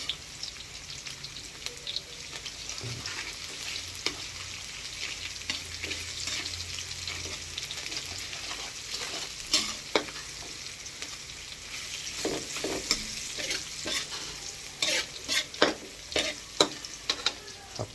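A beef cube melting into scrambled eggs with tomatoes, stirred in a frying pan: a steady sizzle with scattered spatula scrapes and clicks that grow busier toward the end, close up, with no talk.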